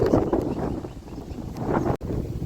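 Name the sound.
cold wind blowing at the seashore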